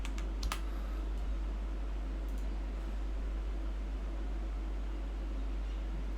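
Someone types on a computer keyboard with quick, faint clicks, mostly at the start, over a steady low hum and fan-like noise.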